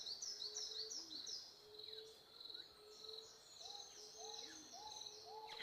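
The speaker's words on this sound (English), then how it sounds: "the noises beyond my voice and the bird song" Birds sing outside a room, with repeated bright chirps and whistled phrases that sound faint and distant over a soft, steady background hiss.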